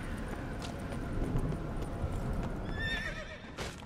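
In The Witcher 3 video game, a horse or donkey clops its hooves steadily and then lets out a neigh near the end, loud and close over a constant ambient bed.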